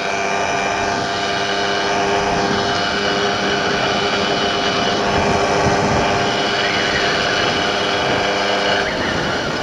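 Derbi Variant moped running with its covers off, a steady, loud engine drone that holds an even pitch throughout, close by and without voices.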